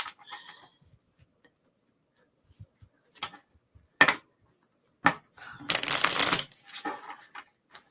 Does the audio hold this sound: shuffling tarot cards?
yes